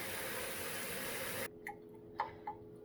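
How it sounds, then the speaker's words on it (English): Foraged coral mushrooms rinsed in water: a steady rush of running water stops abruptly, followed by a few small drips and splashes nearby. "I'm just gonna rinse it one more time just to make sure there's no grain of sand or debris"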